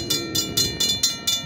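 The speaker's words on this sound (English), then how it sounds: "we have a train coming" Passing train at a road crossing, a fast rhythmic series of clacking bursts from wheels on rail joints, moderately close and steady, with no talk over it.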